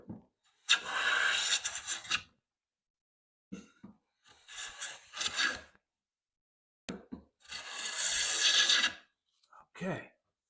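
Stanley jumbo smoothing hand plane taking strokes across a wood board, three long rasping passes with short scrapes between, close and fairly loud, with no talk over it.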